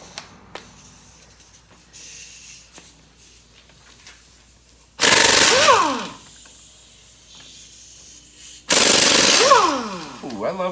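A power tool, probably an impact gun, spins out 18 mm hub assembly bolts on an F150 truck in two loud bursts of a few seconds each, close to the microphone, with quiet shop noise in between.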